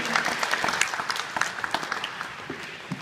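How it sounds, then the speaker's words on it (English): A crowd claps steadily for a few seconds, a fairly loud round of applause with no voices over it. "Let's give Mr. Cam Fuller thank you, round of applause"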